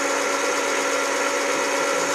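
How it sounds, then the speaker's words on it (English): A rifle case mouth being chamfered and deburred while reloading .308 Win, giving a steady, dense whirring scrape that holds loud and unbroken throughout. "Put it on the chamfer, put it on the deburr"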